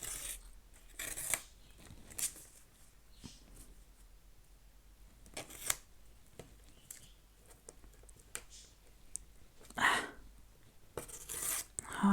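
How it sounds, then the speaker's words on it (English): Scrap paper ripped by hand in several short tearing bursts, close but quiet, separated by quiet handling pauses, with no talking. "So I'm going to have to rip this and probably bin this bit."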